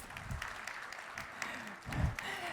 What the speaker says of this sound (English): Round of applause for Timo as well,